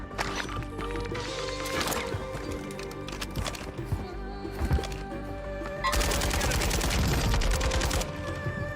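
Gunfire in a competitive first-person shooter video game, a series of sharp shots and bursts peaking around the middle, then a dense sustained volley near the end, with no talk.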